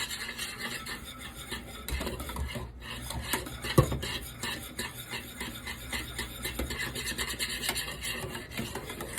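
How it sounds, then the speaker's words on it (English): A spoon scrapes and rubs steadily against a pot of thickening banana pudding made from scratch. The stirring is close and continuous, in a quick repetitive rhythm, and no voices are heard. "you have to continue stirring this"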